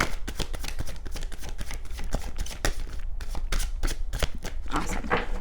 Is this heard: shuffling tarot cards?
yes